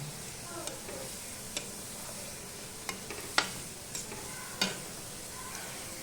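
Onions frying in a pan for a village-style mushroom curry, a soft steady sizzle with occasional light ticks and scrapes of stirring, fairly quiet and without talk.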